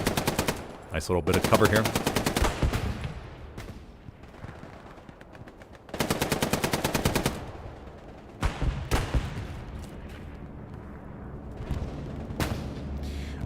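A machine gun in the World War II shooter Hell Let Loose, set in Hurtgen Forest, fires long rapid bursts, close and loud, alongside scattered single shots and distant battle noise, with a voice speaking briefly between bursts.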